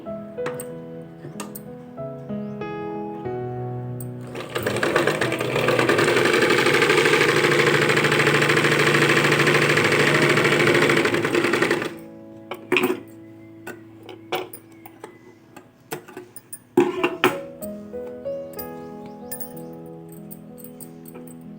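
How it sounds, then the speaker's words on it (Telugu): A sewing machine runs a steady stitching burst of about seven seconds while joining saree fall pieces, followed by scattered clicks and handling noises as the fabric is adjusted. "ఇలా ఫోల్డింగ్ చేసుకొని మిషన్ మీద పెట్టి కుట్టు వేసుకోవాలి"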